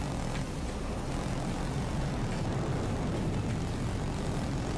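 Jet aircraft engine in the Battlefield 2042 game, a steady broad roar holding at even loudness throughout with no voices.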